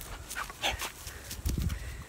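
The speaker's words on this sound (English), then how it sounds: "And if anybody comes near it, he growls." Dog on a farm growling while guarding a puppy bone, low rumbling snarls and short grumbles at close range, with some faint scuffling and rustling around it.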